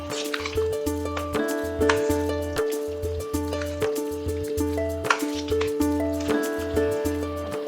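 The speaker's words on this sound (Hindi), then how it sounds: "अब मैं इसमें चिकन ऐड करूंगी। इन सारी चीजों को अच्छे से मिक्स कर लेते हैं।" Raw chicken being mixed by hand into a butter chicken marinade, wet squelching and dripping squishes repeating in a steady rhythm, close and fairly loud, alone with a faint constant tone underneath.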